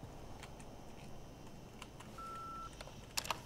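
Phone keypad beeps in the Far Cry 5 video game: a faint held electronic tone, then a short quick cluster of sharp beeps near the end over quiet game ambience.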